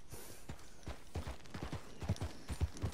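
Horse hooves clip-clopping in Red Dead Redemption 2, a steady galloping rhythm of heavy low thuds building louder toward the end, with no voices over it.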